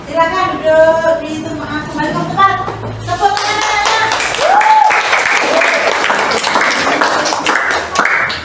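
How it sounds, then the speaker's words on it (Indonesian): Participants in a classroom teacher-training session break into lively group applause after a short stretch of talking, with dense, fairly loud clapping that keeps going to the end under scattered voices. "Tepuk tangan."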